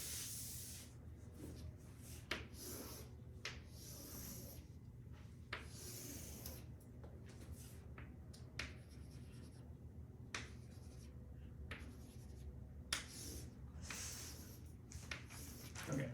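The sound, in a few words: lecturer drawing a picture on the board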